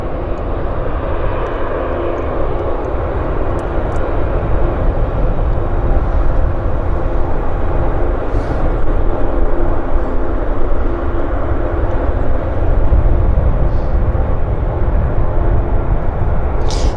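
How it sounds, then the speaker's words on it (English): A Boeing 737-500 airliner at Vancouver airport gives a loud, steady jet engine roar that fills the whole stretch without letting up, broad and rumbling and close. "This is a 737-500, basically the same fuselage length as a 737-200. It's like a 110 passenger machine. Classic airliner."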